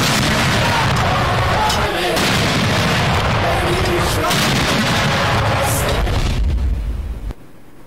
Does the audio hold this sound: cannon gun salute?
yes